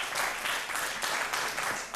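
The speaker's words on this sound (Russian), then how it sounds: "Аплодисменты, аплодисменты, друзья." An audience in a TV studio talk show applauds, a dense continuous wash of clapping at even volume through the whole two seconds.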